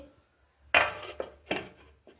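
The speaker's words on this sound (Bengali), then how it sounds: "ছেলেকে ওদিকে খেতে দিয়ে আমি এদিকে দুপুরে রান্নার বাসনগুলো সব মেজে নিচ্ছি" Cooking pots and utensils clatter and clink as they are scrubbed, three or four sharp close knocks of metal separated by short pauses.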